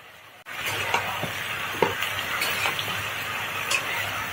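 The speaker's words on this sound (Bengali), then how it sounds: "আলু দিয়ে এবার ভালো করে তরকারিটা কষাই নেবে" Eggplant and potato curry frying in a pan while being stirred, a constant close sizzle starting abruptly, with repeated soft scraping and clinking of a spoon against the pan, no talking.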